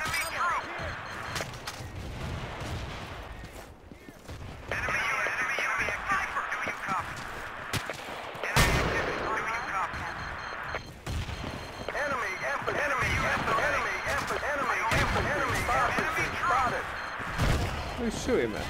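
Gunfire and explosions in the Battlefield 2 video game, a dense, continuous battle din with rapid shots and a sharp loud blast partway through, steady and fairly close throughout.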